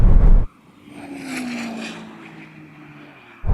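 A launch race between a Porsche, a Ferrari SF90 and a Tesla Model S Plaid, heard as a loud burst cutting off into a rising, then fading electric-motor whine and rushing wind before another loud burst returns at the end.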